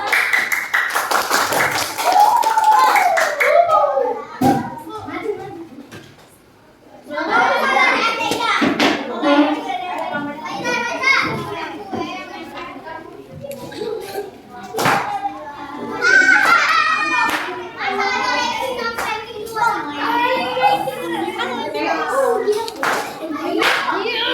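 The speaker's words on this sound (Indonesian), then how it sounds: "Oke, beri tepuk tangan." Fifth-grade schoolchildren clap their hands in a classroom in a quick, loud burst at the start. Then come a brief hush and stretches of children's chatter and a teacher's voice, with scattered taps and thumps.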